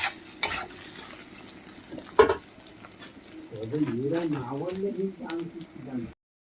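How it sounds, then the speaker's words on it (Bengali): Chopped tomato and green chilli fry in a pan, with a steady soft sizzle, scraping stir strokes and a couple of sharp knocks against the pan, while a voice talks over the second half. "টমেটো কুচি দিয়ে দিলাম এটাও ভাজতে হবে ভালো করে"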